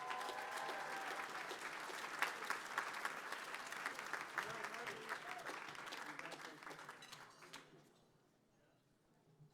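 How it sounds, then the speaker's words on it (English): A dinner audience at the 2015 Urban Heroes Dinner claps steadily for about eight seconds, a dense wash of hand claps with a voice over it, before the applause trails off into near quiet. "Please give them one more round of applause."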